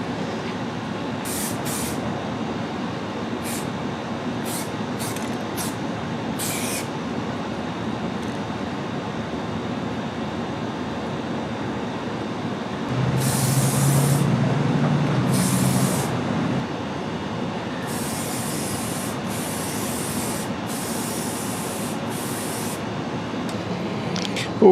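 Spray gun applying self-etching acid primer to a boat trailer, a steady broadband hiss running throughout with a louder, fuller burst midway and short sharp bursts of spray on and off.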